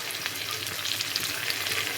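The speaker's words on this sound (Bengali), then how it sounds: "ভেজে নেব, ভাজা ভাজা করে নেব।" Tomatoes fry in a pan for a vegetarian dish, producing a close, continuous bright sizzle with faint crackles throughout and no talking.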